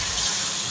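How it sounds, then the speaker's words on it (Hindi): A short splash of water poured into frying masala for nihari, a steady close hiss and gush of liquid with no pauses and no voices. "थोड़ा सा पानी ऐड करके भूनते हैं"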